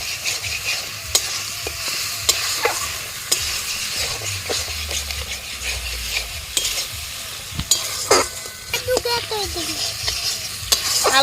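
Boiled tomato and onion paste lightly frying in a pan for butter paneer, a steady close sizzle broken by repeated sharp spatula scrapes and stirring clacks, with no talking.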